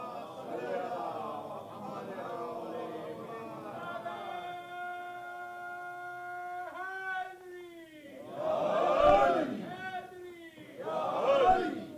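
A congregation at a Muharram gathering in Chicago chants religious slogans and salawat in unison. The sustained voices rise and fall together, then swell into two louder crowd bursts near the end.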